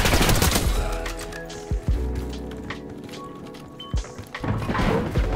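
Rapid bursts of gunfire from a Black Ops 6 match, loud and dense at the start, then sharp isolated shots and impacts over a busy game soundscape.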